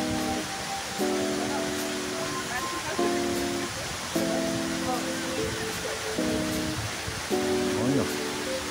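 A waterfall on the route from Kamloops to Vancouver roars as a constant broadband rush, while intermittent voices and tonal sounds rise over it.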